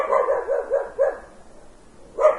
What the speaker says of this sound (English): Then play the sound woof.